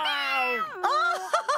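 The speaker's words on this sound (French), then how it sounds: "Tiens, en voilà un étrange miaou." An odd, drawn-out cat meow followed by a few shorter, choppy meows, close and fairly loud.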